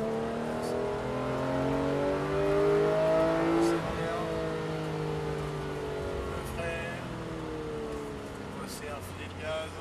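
A Porsche 991 GT3 pulls hard on a race track, its engine note climbing steadily through the revs, dropping briefly, then rising again, with an instructor's voice talking over the drone from inside the car.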